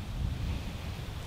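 Strong wind gusts across an exposed lakeside cliff 50 to 60 meters above the water in autumn Lapland, rumbling and buffeting the microphone continuously without a break.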